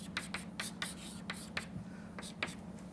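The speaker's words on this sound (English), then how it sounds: "So, we will just write it down neatly." Pen strokes scratch across paper as an equation is written out by hand, a quiet close-up run of short, irregular scribbles over a faint steady hum.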